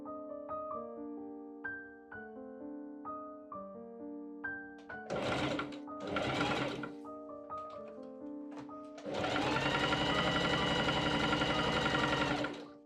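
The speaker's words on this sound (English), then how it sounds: "I machine sew the inside flap pieces on two sides" A sewing machine stitching the inside flap pieces of Regency men's pantaloon trousers, two short bursts of whirring stitching followed by a longer steady run, heard close over a backdrop of gentle instrumental music.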